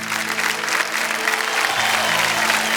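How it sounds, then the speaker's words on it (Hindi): Audience on a TV quiz show applauds teachers with loud, sustained clapping that holds steady throughout, with faint low background music underneath and no talk. "इन सभी के लिए जोरदार मैं चाहता हूं कि तालियां दें।"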